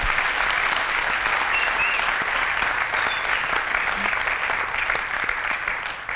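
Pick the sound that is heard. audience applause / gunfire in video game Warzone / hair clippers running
audience applause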